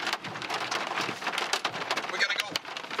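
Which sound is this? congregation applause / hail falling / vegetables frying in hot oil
hail falling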